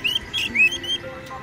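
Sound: songbird chirping, likely a kacer (magpie robin)

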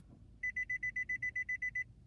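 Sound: buzzer closing key programming mode, 2015 Nissan Altima

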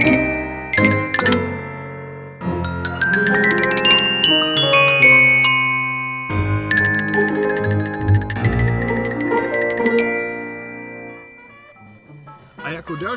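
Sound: Sonor chromatic glockenspiel being played

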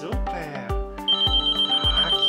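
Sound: doorbell ringing during dog training

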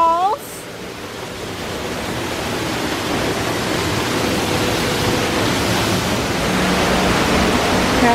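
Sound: waterfall

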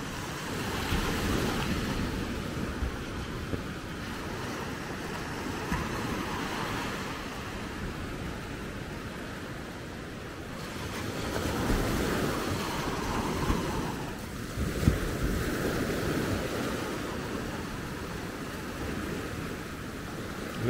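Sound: incoming tide waves at Maspalomas, Gran Canaria

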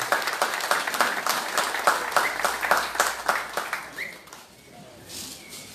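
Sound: audience applause

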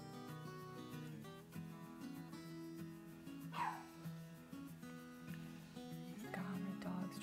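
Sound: dog barking

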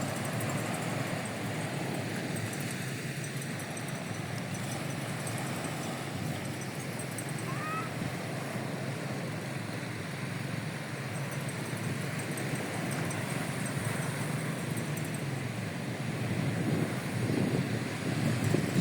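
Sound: sea waves at Sipalay City, Negros Occidental

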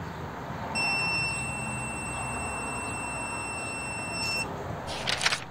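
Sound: continuity beep of GVDA GD181 car multimeter

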